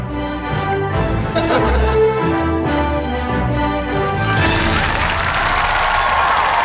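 Music plays for several seconds, then a crowd bursts into loud, sustained applause and cheering at a Hamish & Andy Christmas comedy special.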